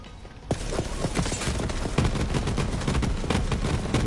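Rapid automatic fire from a gun in Borderlands 3: a dense, fast stream of sharp shots that starts abruptly after a quiet moment and keeps going at a loud, steady rate to the end.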